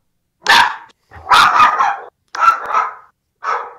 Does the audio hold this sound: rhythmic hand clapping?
no